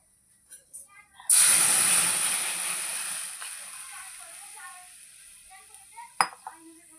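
Liquid milk poured into a pan of frying vermicelli, setting off a sudden loud sizzle that hisses and bubbles, fading gradually over several seconds, with a spoon clink near the end.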